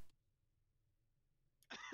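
A single short cough near the end after quiet near-silence, close and fairly loud.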